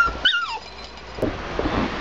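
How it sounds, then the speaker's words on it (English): A puppy seeing itself in a mirror gives a high, wavering whimper, then short yips and scuffling sounds, close and fairly loud, with no talking. "the puppy, who is seeing himself in the mirror for the first time"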